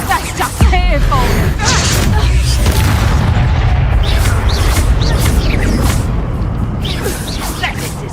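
Spells exploding in the video game Hogwarts Legacy: a loud booming blast followed by rumbling bursts and whooshes, with a voice talking over the action.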